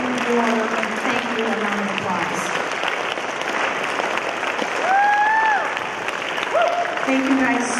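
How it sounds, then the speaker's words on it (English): Audience applause fills a ceremony hall as speakers are thanked at a freshman commitment ceremony, sustained clapping from a large crowd with some voices mixed in. "please give them a very warm thank you and round of applause"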